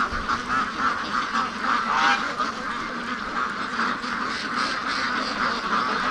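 Free-range ducks foraging, giving a continuous chorus of quacks and honking calls at moderate loudness, with no speech.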